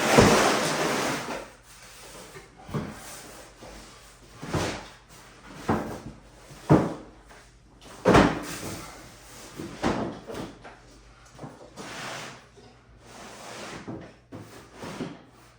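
A tote of straps is set down on a glued, clamped cabinet door lying flat, with a series of hollow wooden knocks, clunks and rattles at irregular intervals, some loud and close.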